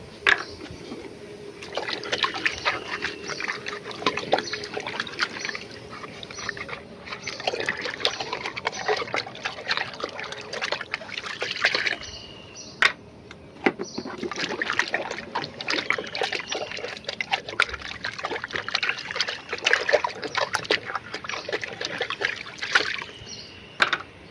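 Water trickles and splashes steadily while pigeon drinkers are washed by hand, with irregular clatters and knocks from the containers throughout.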